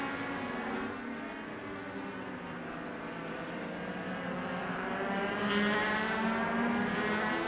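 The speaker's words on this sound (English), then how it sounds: "When they go from the straightaway to the corner, it sounds like they're topping out the cars." Race cars on a track at a legends event in Atlanta, engines droning steadily from a distance as they come off the straightaway toward the corner, a continuous layered whine with a slight swell near the end.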